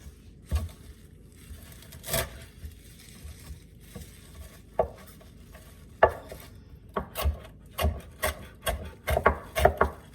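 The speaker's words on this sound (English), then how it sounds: "Now I'm going to chop up my parsley and my onions." Faint, irregular knife taps against a cutting board while chopping parsley and onions, some quick clusters and some isolated chops, in a quiet room.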